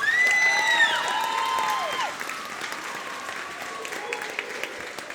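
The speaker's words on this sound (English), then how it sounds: "Will you give the xylophone players a round of applause?" An audience at a middle school concert applauds the xylophone players, a fairly distant wash of clapping with a few high whoops and cheers at the start that fade into steadier clapping.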